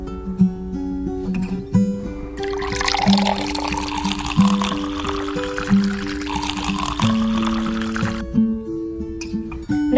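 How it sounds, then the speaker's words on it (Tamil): Water is poured to fill a container in a home, a bright rushing, gurgling stream that rises in pitch over several seconds and then stops, while a repeating musical tone plays alongside. "கொஞ்சம் இதுல தண்ணி ஃபில் பண்ணி வச்சிருறியா?"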